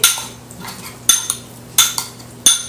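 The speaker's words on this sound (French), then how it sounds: "Donc, on va bien mélanger ceci" Chili powder being mixed into fish in a bowl for Senegalese yassa, with several sharp utensil clinks and scrapes against the dish, spaced apart over a faint steady hum.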